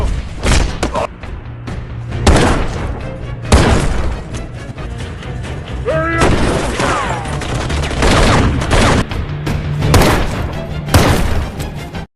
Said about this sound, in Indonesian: terjadilah baku tembak di tempat itu yang mengakibatkan kekacauan